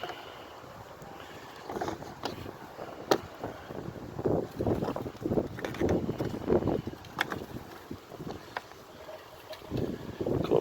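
Gusty wind rumbles and buffets the microphone outdoors, with faint handling and movement noises mixed in.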